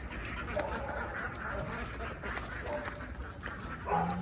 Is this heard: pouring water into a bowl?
no